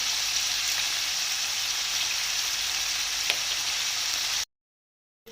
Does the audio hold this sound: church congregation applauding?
no